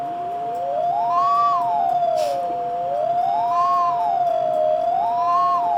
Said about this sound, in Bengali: অ্যাম্বুলেন্সের সাউন্ড বাজাতে